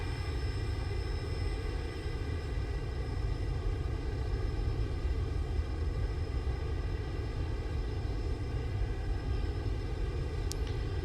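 A FedEx aircraft drones steadily in flight in the X-Plane 11 flight simulator, its engines making a constant, even hum with layered tonal whine and no pauses.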